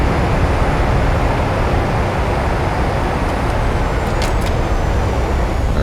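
A PMDG 737 NGX in a flight simulator rolls out after landing under manual braking, giving a loud, steady roar of engine and rumbling wheel noise that holds constant throughout, with a few faint high whines near the end.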